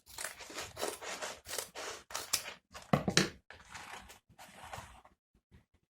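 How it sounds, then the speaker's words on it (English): Scissors snip repeatedly through Dollar Tree deco mesh for a ghost wreath, a series of close, crisp crunching cuts with short pauses between strokes, ending in near silence. "while holding your deco mesh, see the bottom's cut, you're going to cut the top"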